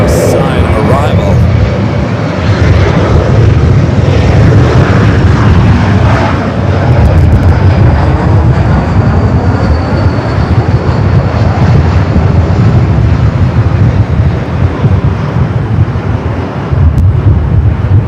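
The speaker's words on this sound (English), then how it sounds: "the Lufthansa Dreamliner up next for Southside arrival" A Lufthansa Boeing 787-9 Dreamliner landing at LAX, heard as a loud, steady jet roar that stays close and unbroken, with wind buffeting the microphone.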